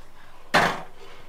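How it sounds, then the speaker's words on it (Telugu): A lid is set onto a cooking pot holding ragi java (finger millet porridge) in a home kitchen, producing a single sharp metallic clank close by that rings briefly and fades. "మూత పెట్టేసి పక్కన పెడతాను."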